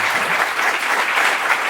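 A festival audience gives a steady burst of applause for the volunteers, with dense clapping from many hands throughout and no pauses.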